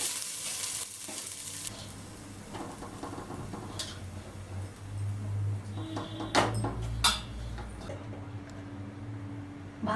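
Rice dropped into a ghee-greased pan, giving a low, steady sizzle with occasional scraping and clinks of a utensil against the pan.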